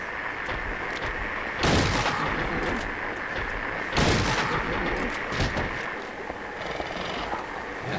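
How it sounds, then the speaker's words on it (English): Shotgun blasts in Silent Hill 3, three heavy booming shots spaced a couple of seconds apart over a droning, noisy backdrop. "Shotgun time?"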